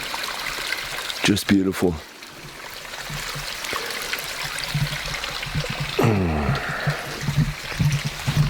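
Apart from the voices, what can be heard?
water trickling down a stream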